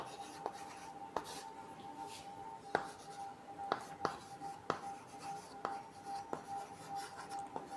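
Pen or pencil writing notes on paper during a physics class, a run of short scratchy strokes and taps repeating steadily, close and quiet.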